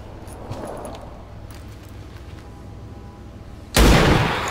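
Gunfire from soldiers in XCOM 2 comes as one sudden loud, broadband burst near the end, sustained briefly after a quieter stretch of low background noise.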